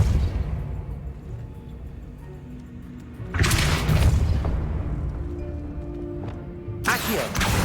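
A Depulso force spell cast in the Hogwarts Legacy video game, heard as a loud whooshing magical blast bursting out after a quiet stretch, followed by a second sharp burst near the end.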